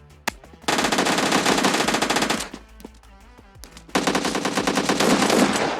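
Rapid automatic Uzi bursts and shotgun fire from the PUBG Mobile Lite video game, two long, loud, dense volleys of gunfire separated by a brief lull, with no talking.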